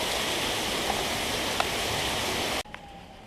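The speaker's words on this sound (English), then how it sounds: "A lot of rain." Torrential rain from Hurricane Harvey in Houston roars in a constant, dense wash for a few seconds, then cuts off abruptly into near quiet with a faint tone.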